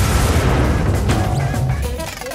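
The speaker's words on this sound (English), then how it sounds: "Brace yourself for an explosion!" A loud cartoon-style explosion bursts out in a rumbling, crackling roar that fills the short moment and slowly fades, heard alone with no talking.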